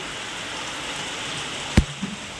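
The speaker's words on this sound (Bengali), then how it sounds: "মুষলধারে এসে গেছে বৃষ্টি" Steady heavy downpour at Mandarmani, a seaside town, hisses across the whole band, with a sharp knock near the end and a couple of small thuds after it.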